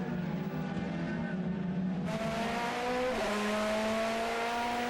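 A DTM race car screams around the Lausitzring track in 2011, heard from on board as a loud, sustained high-revving engine whose pitch climbs, drops sharply at a gear change, then climbs again.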